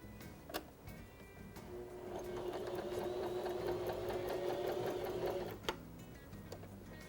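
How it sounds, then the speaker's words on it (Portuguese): A sewing machine runs in one steady burst of rapid mechanical stitching on patchwork fabric, sewing a seam along a marked line for a cushion. Faint clicks come before and after the run, with no talk. "Eu levo para a máquina e faço uma costura aqui em cima dessa linha que eu marquei."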